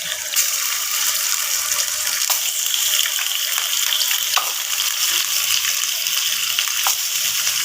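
Drained garlic and ginger fry in a pan for chicken amani, producing a loud continuous sizzle and crackle with occasional stirring clicks, close and steady throughout.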